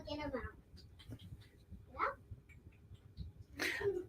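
A house cat meows a few times in a room around dinnertime, short, moderately close calls breaking up people talking nearby.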